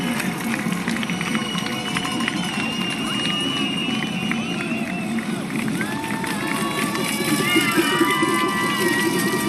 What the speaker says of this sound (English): Crowds out in really good numbers.